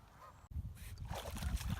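A few geese honk faintly over a soft, windy outdoor background.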